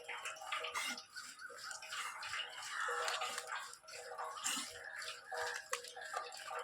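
A white pet dog named Dodo is being soaped and bathed, with water splashing and running in continuous busy bursts and faint voices mixed in.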